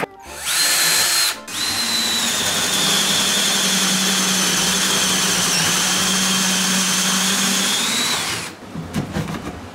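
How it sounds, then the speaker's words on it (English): A power drill with a spade bit whines loudly and steadily for about seven seconds while drilling wood after a brief first burst, then winds down into clattering handling noise. "I'm going to drill a tiny hole first to guide the spade bit"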